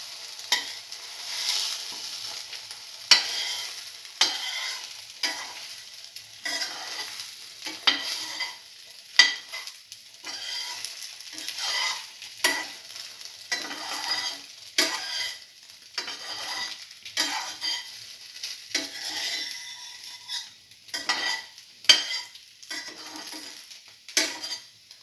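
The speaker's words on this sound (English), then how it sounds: "And let it fry." French toast with cinnamon and chili frying in a pan, a soft sizzle under repeated scraping and clinks of a utensil against the pan, heard close and quiet with no talk.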